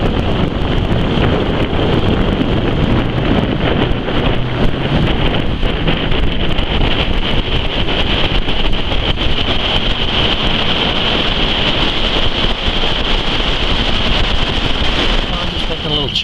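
Wind buffets a microphone steadily as a fishing boat moves out across open water, a loud continuous roar with a bright hiss and churning low rumble throughout, no clear voices.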